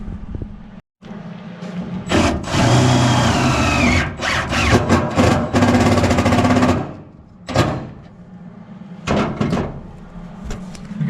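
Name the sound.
power drill driving screws into a car body panel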